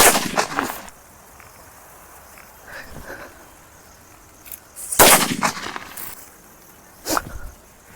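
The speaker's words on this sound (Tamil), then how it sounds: "வெடிக்கிறதுக்கு செம்மையா இருக்கு. வெடிச்சிடலாம் வாங்க." Lakshmi firecrackers burst during Diwali celebrations outdoors in rainy weather, several sharp loud bangs going off at irregular intervals with brief crackling echoes between them, and no talk.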